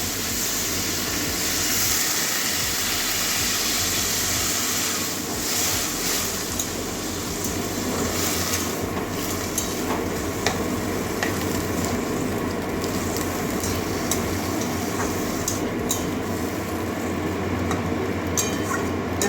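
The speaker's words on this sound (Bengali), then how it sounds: "এবারে জল দিয়ে দেবো" Water pours into a pan of simmering curry made with hilsa fish head, ivy gourd and potato, giving a steady, close rushing hiss that runs unbroken for the whole stretch with no voices.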